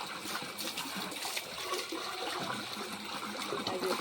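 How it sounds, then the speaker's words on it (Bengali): Water gushing from a motor pipe in a steady, rushing, splashing flow, close and continuous with no speech. "এমনি জল বার হচ্ছে, একদম জাদু।"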